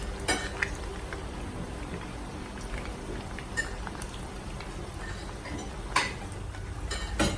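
Pork belly deep-frying in hot oil for crispy lechon kawali, giving a steady dense crackle and bubbling throughout with a few sharper pops, close and continuous with no talking.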